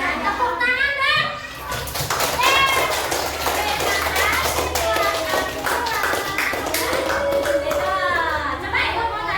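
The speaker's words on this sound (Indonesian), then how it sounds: "tepuk tangan dong" Schoolchildren clap together in an elementary classroom, a dense burst of hand claps mixed with lively children's voices and chatter that carries on throughout.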